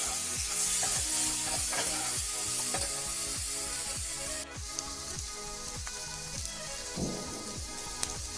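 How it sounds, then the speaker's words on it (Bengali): Cauliflower being sautéed with turmeric, cumin and coriander powder for phulkopir dalna, a bright crackling sizzle under rhythmic scraping strokes of a spatula, close and steady with no talking. "এবার দিয়ে দিচ্ছি হলুদ গুঁড়ো, জিরে গুঁড়ো, ধনে গুঁড়ো। সব দিয়ে খুব ভালো করে কষিয়ে নিতে হবে।"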